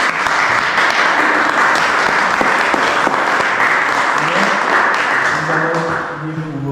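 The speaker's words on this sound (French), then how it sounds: "je voudrais qu'on acclame le Seigneur pour Ephraim" A church congregation bursts into loud, sustained applause during worship, dense clapping filling the room close by, with a few voices rising under it before it starts to thin out at the end.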